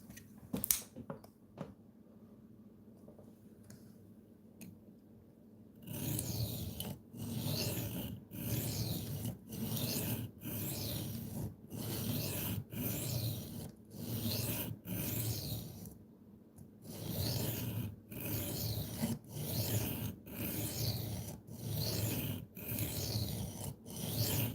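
Knife sharpening by hand, with repeated rasping strokes: a few scattered scrapes at first, then a steady run of rhythmic, evenly spaced passes that continue loud and close with no talking.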